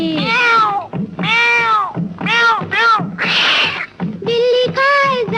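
A cat meows in a quick series of about eight loud, drawn-out, wavering calls, with brief pauses between them and a hissy burst in the middle.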